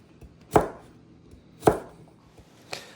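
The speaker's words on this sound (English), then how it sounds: "I will cut the lower stems into roughly 1/4-inch pieces." A knife chops asparagus stems into short pieces on a cutting board, three crisp, evenly spaced thunks about a second apart, close and clear with no talk.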